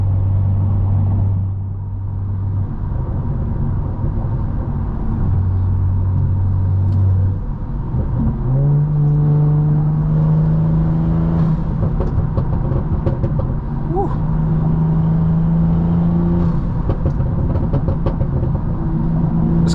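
A stage 2 tuned BMW M340i engine revving on a night drive, heard from inside as a steady low drone that climbs in pitch and holds, with a sustained loud rumble throughout.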